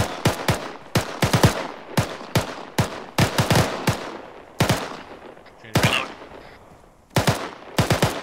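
Squad weapons firing in the military game Arma 3 during infantry squad training: sharp gunshots in short bursts and single cracks, spaced irregularly over several seconds, loud and close with no talk over them.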